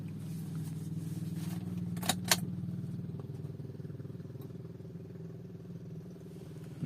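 The engine of a 2014 Toyota Avanza runs in a steady, low idle hum, close and fairly loud, with a couple of brief clicks or clatters partway through and a slight change near the end.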